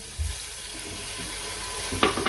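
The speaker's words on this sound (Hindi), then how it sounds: "अब इसमें आधा कप पानी का डालेंगे" Half a cup of water splashes into brinjal bharta masala frying with turmeric, red chilli and salt; a steady low sizzle runs throughout before a short, louder pour and splash near the end.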